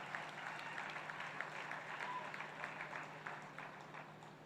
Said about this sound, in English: I would like to have thunderous applause for your beautiful campus at Kothur and at Loni Kalbor